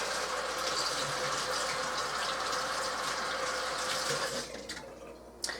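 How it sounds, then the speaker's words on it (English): Water running from a kitchen tap while hands are washed, a steady close gush that fades near the end, followed by a brief clink. "let me wash my hands real quick"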